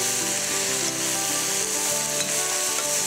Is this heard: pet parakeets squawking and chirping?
no